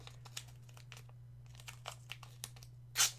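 Adhesive tape pulled from a roll and torn while packing a CGC-graded RAGS comic, with soft crinkling and crackling throughout and a short, loud ripping burst near the end.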